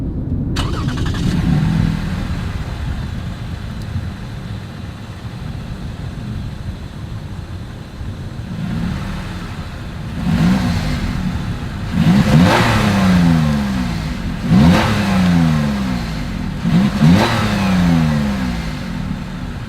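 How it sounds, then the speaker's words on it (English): 2021 Lexus RX350 with dual exhaust and chrome tips, idling low and steady, then revved in several sharp rising bursts, close and loud. "As always, here is that exhaust clip."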